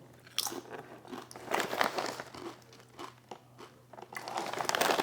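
Someone bites into and chews crunchy buffalo-flavored high-protein chips close to the microphone, giving dense, crackling crunches with crinkling texture that builds through the chewing, with no talking.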